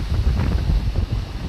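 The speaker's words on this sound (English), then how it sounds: "it's getting quite windy" Strong coastal wind at Estero Bluffs State Park buffets the microphone with a loud, continuous low rumble and gusty roar, and no speech.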